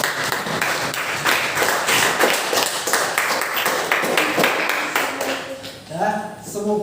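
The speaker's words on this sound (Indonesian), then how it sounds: "Tepuk tangan dulu." Students in a classroom clap their hands together after a lesson presentation, a dense patter of many hands that overlaps talk, then fades as a voice takes over near the end.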